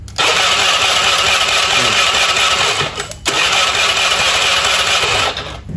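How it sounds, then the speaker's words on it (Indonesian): A carbureted 130cc Honda Beat scooter engine is cranked on its electric starter, a loud, close, steady whirring drone that dips briefly midway and then continues before cutting off. "Oke, kita starter dulu untuk cek olinya."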